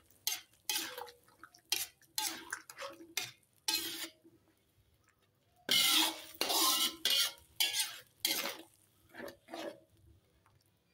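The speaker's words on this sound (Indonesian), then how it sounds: "Aduk seperti ini." A spoon stirring black pepper egg curry in a pan, a run of short scraping and clinking strokes in an uneven rhythm, close by and moderately loud, with quiet gaps between them.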